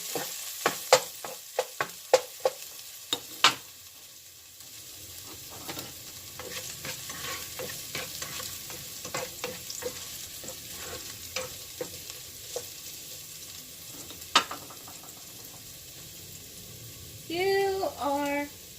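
Beef fried rice frying in a pan, with soft sizzling under a series of close scrapes and clanks of stirring that are busiest at the start, and a brief vocal sound near the end.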